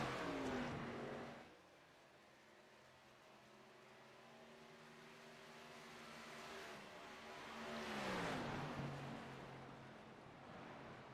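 Race cars lapping a track in a Georgia 185 race roar past, one loud pass fading out, then another engine swelling closer and receding, no talk.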